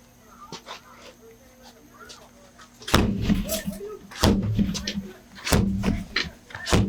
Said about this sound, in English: Yes, we are going to break the door.